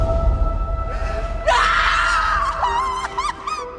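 A woman in a television horror drama scene lets out a long, piercing, gut-wrenching scream, loud and close, rising and wavering before breaking into shorter shrieks, over a low background hum.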